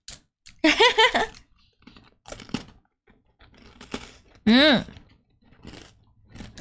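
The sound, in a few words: eating a crunchy biscuit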